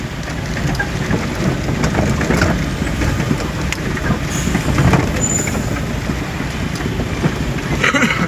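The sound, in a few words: car descending a hill on a bad mountain road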